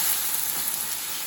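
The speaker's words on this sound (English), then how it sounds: "because you want to get rid of that sizzle" Tomato sauce sizzles in a hot pan, a brief, steady, soft hiss with no voices.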